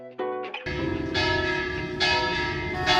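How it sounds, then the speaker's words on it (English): Church bells ring out at noon on Monserrate mountain above Bogota, Colombia, a loud, close clanging of overlapping strikes that swells into a sustained ringing peal. "12 o'clock church bells."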